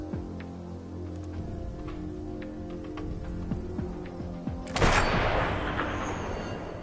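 A single loud sniper rifle shot in a war film cracks out partway through over a tense musical score, then trails into a long, rumbling echo that fades slowly.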